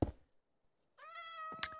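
A cat lets out a single drawn-out, clear, tonal meow close by, rising then holding steady, preceded by a soft thump and silence and ending with a sharp knock.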